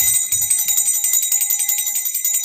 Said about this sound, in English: Here's your freedom bell.